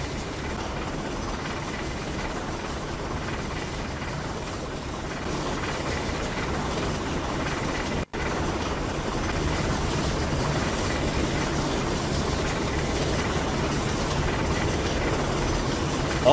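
A steam train rolls through a national park near an industrial town in Utah, a steady low rumble of engine and rail noise that stays even throughout, with a brief dropout midway.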